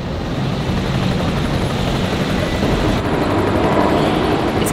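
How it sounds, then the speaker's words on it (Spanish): Helicopters pass overhead in an upscale city neighborhood in Mexico City, a steady loud rotor drone with faint blade chop that fills the whole stretch without a break. "no son aviones, son helicópteros"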